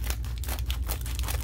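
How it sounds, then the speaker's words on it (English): Scissors cutting into packaging on basketball card repacks, a dense run of close snipping, crinkling and tearing that continues steadily with no talking. "Let's get the scissors going here."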